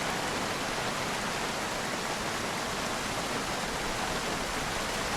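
Heavy rain in a zombie video game, a loud, steady hiss that fills the whole stretch without a break, with no other sounds or voices over it.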